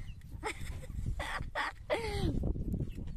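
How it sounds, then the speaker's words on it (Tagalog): Several chickens cluck in short bursts close by, with a low background rumble underneath. "Maraming manok."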